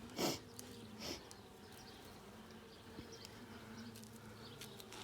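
Honeybees buzz during a package hive inspection at eight weeks, a faint steady hum with a few brief louder passes close by and soft handling noises, no talking.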